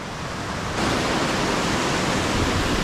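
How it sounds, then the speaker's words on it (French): Steady, dense roar of falling water fills the clip, growing slightly louder after the first moment and staying constant throughout. "on passe par contre sur une vraie cascade et sur un beau pont"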